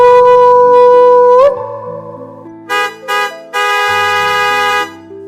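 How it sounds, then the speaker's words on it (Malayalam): A car horn sound effect in a Malayalam audio story, made of several loud, close honks: one long blast, then two short toots and a longer sustained honk. "അല്പം പിന്നിലായി ഒരു ഹോണടി."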